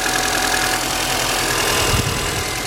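A Mini Cooper engine idling, picked up close beside the fuel injectors: a loud, steady mechanical hum with fast, even ticking and a brief low thump near the end.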